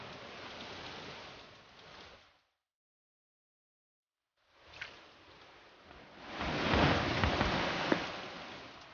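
Steady rain hiss in the video game Das Schwarze Auge: Satinavs Ketten, a dense wash that cuts out to silence for about two seconds, then returns and swells louder with a few sharper drops.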